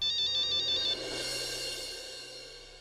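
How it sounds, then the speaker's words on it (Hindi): A telephone ringtone plays loud and alone, a repeating electronic melody for about a second before fading into a sustained tone. "सॉरी शेखर, तुम्हें इतनी रात को मैंने फोन किया।"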